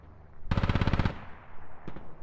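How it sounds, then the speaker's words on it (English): A sustained burst of rapid automatic gunfire erupts in the military shooter Squad, a loud close rattle lasting about half a second, followed by a single sharper shot moments later. "I guess Hedda is trying to engage people with the gun"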